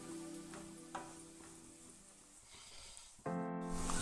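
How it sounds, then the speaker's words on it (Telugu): Sliced carrot and capsicum frying in oil in a pan for egg fried rice, a steady soft sizzle with light stirring scrapes, growing louder and brighter near the end. "ఇవన్నిటిని ఫ్రై చేసుకుందాము. ఆయిల్లో 2 నిమిషాల పాటు మగ్గనివ్వాలి వీటిని."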